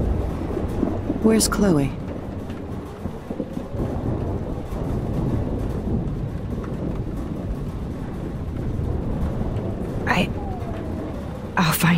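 A thunderstorm in the game Life is Strange: steady heavy rain and low rumbling wash across the whole stretch, with sharp cracks breaking through near the start and end while characters talk over it.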